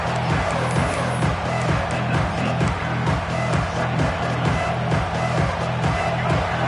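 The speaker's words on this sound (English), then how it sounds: "the crowd coming to life here, trying to help this defense down in the red zone" A football stadium crowd roars steadily as the defense is pinned in the red zone, a dense, loud wash of cheering that never lets up.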